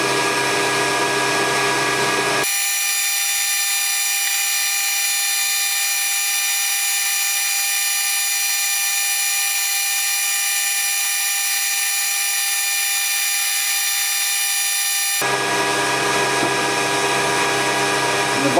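Metal lathe cutting hex stock with a travelling steady, a loud continuous machining whine with a steady high tone, broken by an abrupt shift partway through and then resuming.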